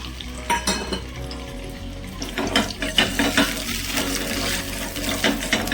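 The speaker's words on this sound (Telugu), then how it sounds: "ఆయిల్ హీట్ అయిన తర్వాత ఉడికించే ఎగ్స్ని ఒక్కొక్కటిగా అందులో వేసుకుందాం" Boiled eggs dropped one by one into hot oil in a pan, steady crackling sizzle with scattered sharper pops and spatters throughout, close and moderately loud.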